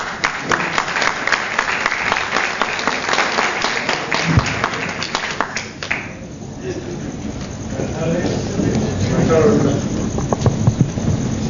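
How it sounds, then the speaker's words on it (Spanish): Audience applause in a conference hall at a youth pension-planning seminar in Córdoba, a steady wash of many hands for about six seconds, then tapering into a murmuring room with scattered claps. "Un fuerte aplauso."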